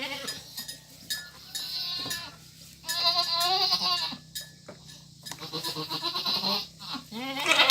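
A goat bleats repeatedly during birth, drawn-out wavering cries in irregular bursts, close and fairly loud, with faint human sounds between the calls.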